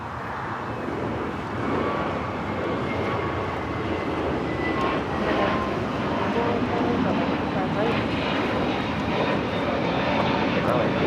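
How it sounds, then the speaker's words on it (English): A four-year-old JetBlue Airbus A321neo departs from Los Angeles LAX, a sustained, moderately loud engine roar rolling on for around eleven seconds while a voice talks over it. "There we do have an actual takeoff. JetBlue Flight 2074 heading to JFK. It's a 4-year-old A321neo."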